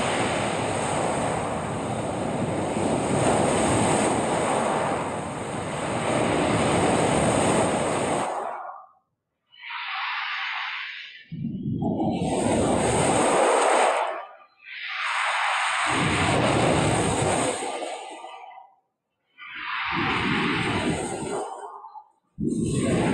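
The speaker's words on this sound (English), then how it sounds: "this next audio track is just the sound of ocean waves." Ocean waves roll in and break in full, roaring surges, each swelling then dropping into brief near-silence before the next wash arrives, with a windy hiss over the surf.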